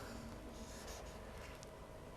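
A pencil drawing a mouth on paper in an art lesson, giving a steady soft scratching and scraping that runs continuously, close and fairly quiet, with no talking.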